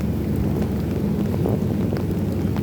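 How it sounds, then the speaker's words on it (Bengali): Heavy rain pours steadily and without a break in Feni town, a dense, constant roar of water, with a faint low rumble underneath. "বৃষ্টি টানা বৃষ্টি হচ্ছে প্রচুর বৃষ্টি হচ্ছে ফেনী শহরে"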